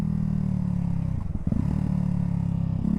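Ducati Hypermotard 698 Mono single-cylinder engine going on and off the throttle while riding: a steady, loud, close engine drone that dips and stutters briefly in the middle, then settles back to a constant note.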